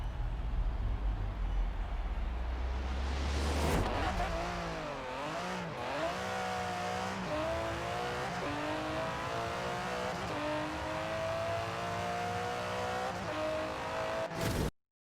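Aston Martin DBS Superleggera in Forza Horizon 4 launching down a quarter-mile drag strip, with a loud rising engine roar climbing through several gears, each shift dropping the pitch before it revs up again, cut off abruptly at the end.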